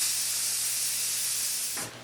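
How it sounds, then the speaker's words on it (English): Spray lacquer hisses steadily from a can onto laser-cut copper jewelry in one continuous close burst, then cuts off abruptly near the end. "Give them a little hit of spray lacquer."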